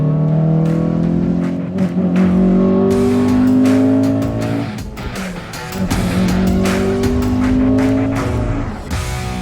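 A 2002 Honda Accord Euro R pulls hard through the gears, its engine note climbing loudly and dropping at shifts, with tire noise through the whole stretch and no voices.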